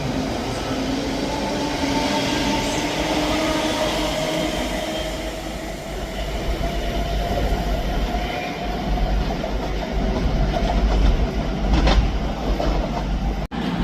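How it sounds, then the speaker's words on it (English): CrossCountry passenger train departing Edinburgh Haymarket station on the Aberdeen to Plymouth service, a loud, close, continuous rumble of wheels and engine with faint squeals and rising clatter as it pulls away. "Departing out now is the 10:50 CrossCountry service from Aberdeen to Plymouth."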